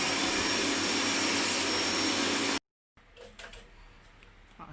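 A stripped-down Daikin air conditioner is washed with a loud, steady rushing spray that cuts off abruptly. A brief silence follows, then quieter splashing and handling sounds.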